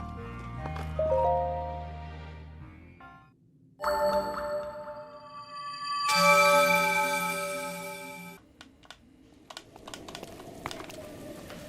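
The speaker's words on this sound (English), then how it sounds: "we can finally put our horse away" Horse hooves clop in a video game, set against tonal music and effects that cut in and out, with a rhythmic sequence of hoof and step sounds fairly close and loud, and no talk.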